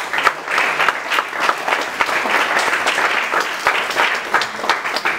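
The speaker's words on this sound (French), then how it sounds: "Ensemble, on acclame pour la sincérité des Judas." A church congregation applauding together, a dense, loud, even wash of clapping that continues steadily throughout.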